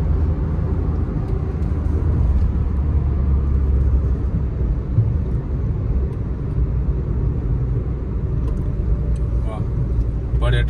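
Car cruising along the newly built Delhi-Dehradun highway, a steady low road-and-engine rumble heard from inside the vehicle, with faint voices in the cabin.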